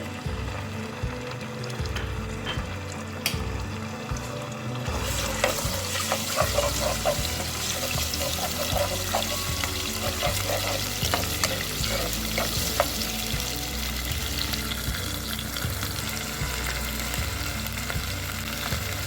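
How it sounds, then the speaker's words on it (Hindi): Steady crackling sizzle of cow brain, ginger and garlic frying in hot oil, with scraping and stirring clatter throughout, close up and continuous, no voices. "मैं अदरक लहसुन डालती हूँ। पकाना शुरू किया हमने ब्रेन को।"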